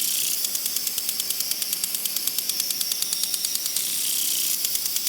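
A lawn sprinkler's ratcheting head being adjusted gives a steady run of rapid, evenly spaced metallic clicks, close and crisp, over a constant hiss of spraying water, with no voices.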